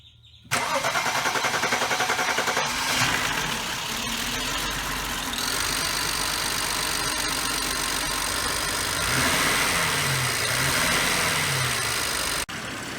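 A 2008 BMW 535i with a freshly replaced valve cover cranks and fires, then settles into a steady, loud idle that runs close by for about twelve seconds before cutting off.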